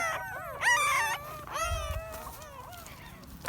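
Small abandoned puppies whimper and let out a few short howls in a cluster of high, wavering cries, close by, fading toward the end over a low background rumble.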